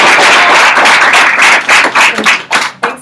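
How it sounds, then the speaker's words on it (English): An audience at a training event claps for Nicole, a dense close burst of applause that thins into scattered individual claps over about three seconds. "Clap it up for Nicole."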